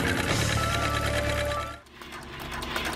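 Sewing machine stitching fabric for a motorbike seat runs loud with a fast, even mechanical chatter, stops abruptly just before two seconds, then a softer rattle and handling noise follow.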